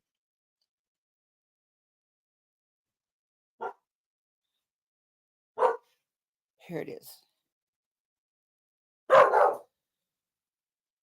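Dogs bark in a few sharp, separate barks spaced over several seconds, one louder double bark near the end, against quiet background, with a brief spoken phrase.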